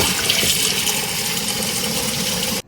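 Rohu fish is rinsed under a running tap, giving a steady loud gush of water that stops abruptly near the end, with no voices.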